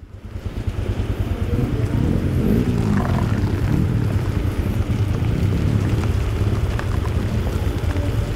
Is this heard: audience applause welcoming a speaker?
no